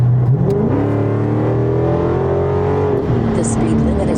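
Dodge Charger Scat Pack 392 in track mode under full throttle, a loud, steady V8 roar climbing in pitch through a gear, heard from inside the cabin.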